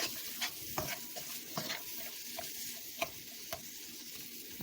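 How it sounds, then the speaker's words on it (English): Channa chickpeas fry in a pan with a steady soft sizzle, broken by occasional scrapes and taps of a spoon stirring them, close up with no talking. "I'm just gonna fry this up a little."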